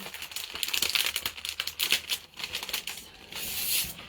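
Scissors cutting plastic transfer sheets up close, snipping and crinkling in quick irregular cuts with rustling between them.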